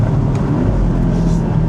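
A Porsche 718 Boxster GTS, driven with the top down, gives a steady, loud low engine drone mixed with rushing wind buffeting the microphone.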